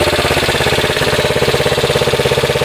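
A Honda XR80 motorcycle fitted with a cheap $150 eBay engine idles steadily up close, its small single-cylinder engine pulsing in an even, loud, rapid rhythm with no voices.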